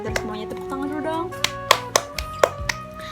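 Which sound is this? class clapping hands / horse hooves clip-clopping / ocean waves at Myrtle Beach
class clapping hands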